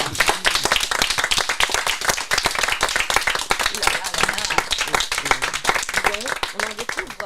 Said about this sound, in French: Et on les applaudit très très fort.